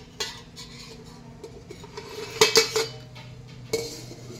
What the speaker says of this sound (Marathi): आता आपण ह्याची झाकण काढून घेऊया.